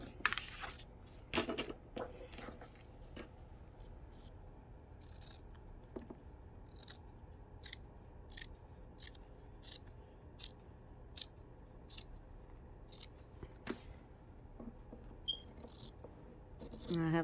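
Scissors snipping through fabric for a mini clutch album: a long run of crisp, evenly spaced cuts, close and moderately loud, with a few scrapes and brief talk near the start.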